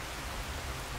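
Steady rain falls in an Elder Scrolls game, a soft, even hiss of drops spread across the whole short stretch with no change in level.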